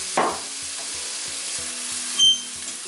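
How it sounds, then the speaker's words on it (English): Onions sauté in two tablespoons of olive oil for a green moong and mushroom curry, a steady close sizzle with a few brief scrapes from stirring. "And let the onions start. Saute the onions."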